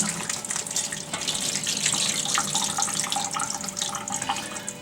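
Tap water runs steadily into a sink to rinse out a can of beans for vegetarian chili, a continuous close splashing gush with no talking.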